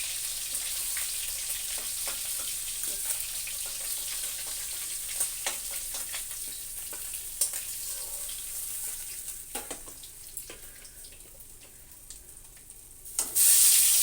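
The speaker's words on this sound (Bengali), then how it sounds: "বাকি মাছগুলো ভেজে নিচ্ছি।" Fish fries in oil in a pan with a steady, close sizzle and crackle, dotted with faint clicks of a utensil and a louder rush of noise at the very end.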